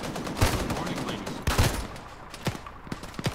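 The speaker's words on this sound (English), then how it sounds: "So I'll be shooting, watch out." Gunfire in the military shooter game ArmA 3, with a few sharp, loud bursts of shots near the start and middle, followed by lighter, more distant pops, while players talk over the action.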